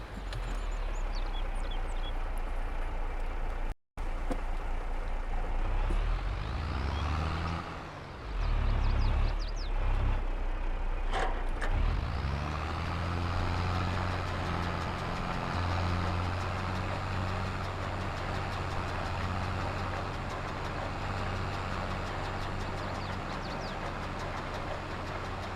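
In a farming video game, a tractor engine drones steadily while it pulls a forage wagon, with a continuous rumble, a brief dropout and some mechanical clunks partway through.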